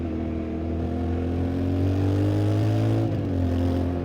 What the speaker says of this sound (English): Right now I'm shifting with the clutch.